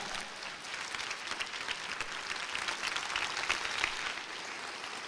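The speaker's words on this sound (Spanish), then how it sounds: "denle un aplauso al Señor" A church congregation applauds during a sermon, producing a soft, steady wash of clapping that sounds distant and continues for about five seconds.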